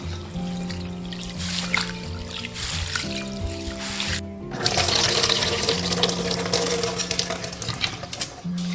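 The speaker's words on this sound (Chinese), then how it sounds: "把大米淘洗干净。" Uncooked rice being rinsed by hand in clear water, a soft, continuous sloshing and trickling close by, playing under steady background music with no talking.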